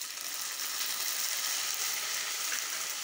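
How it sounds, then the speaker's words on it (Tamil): Tomatoes dropped into a pan of frying onions sizzle steadily, a dense bright hiss that stays loud and even throughout with no talk. "ஆ, இப்போ நம்ம எடுத்து வச்ச அந்த தக்காளியை போட்டுக்கலாம்."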